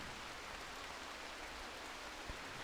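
Steady rain in RimWorld, a soft, even hiss of falling drops that continues without a break at low volume, with no voices over it.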